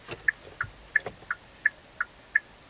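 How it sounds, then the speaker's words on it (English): Inside a Kia Soul Turbo, the turn signal ticks as quiet, evenly spaced electronic clicks at about three per second, close but faint against a quiet cabin. "And turn signal noise."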